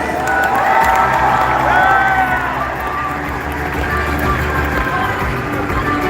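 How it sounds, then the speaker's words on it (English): An audience at a live Canadian SuperDogs dog show applauds and cheers, a loud steady roar of clapping, whoops and children's shouts, with music playing underneath. "give a huge round of applause to the stars of our show, the Canadian SuperDogs"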